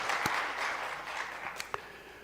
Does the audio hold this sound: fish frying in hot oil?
no